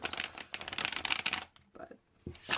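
A twenty-year-old tarot deck is riffle shuffled, two quick fluttering bursts of cards riffling together, each ending in a soft bridge and tap, close and crisp with a short pause between.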